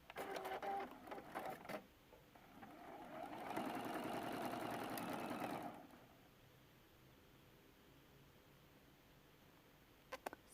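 Sewing machine stitching a collage-style T-shirt quilt seam, a steady faint whir running for a few seconds then stopping, with soft handling clicks before and after and no talk.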